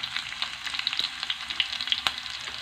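Chopped onion sizzling in hot oil in a pan, a steady close crackle with frequent small pops and spits, no voices.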